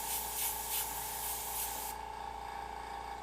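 An airbrush sprays paint onto a face: a steady close hiss with slight pulsing that cuts off abruptly partway through, leaving quiet room tone.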